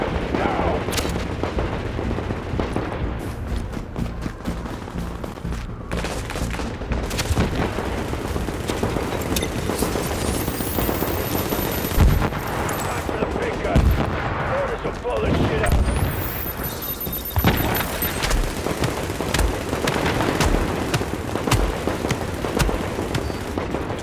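Heavy weapon fire in S.T.A.L.K.E.R. Clear Sky challenge mode, loud repeated gunshots and booming blasts running continuously throughout, with someone talking over the barrage.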